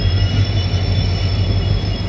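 Passenger express train hauled by a WDP4D diesel locomotive with ICF coaches, running steadily with a loud, continuous low rumble and rolling wheel noise throughout.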